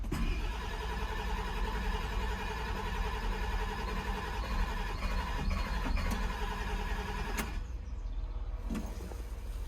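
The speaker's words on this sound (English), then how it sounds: "we'll just whiz the engine over and see what it makes" A stalled diesel engine on a dead machine is cranked over by the starter without firing, a quiet, even, rhythmic churning that runs for several seconds and then cuts off abruptly.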